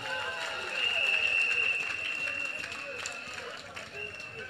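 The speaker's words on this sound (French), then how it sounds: "Il faut applaudir le comité très fort." Crowd applause at a political rally in Côte d'Ivoire, swelling then holding under a steady high whistle-like tone, with voices mixed in throughout.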